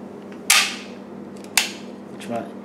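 Swiss-made SIG P220 double/single-action pistol with a Sauer-style decocker, giving two sharp metallic snaps about a second apart, then a softer mechanical click.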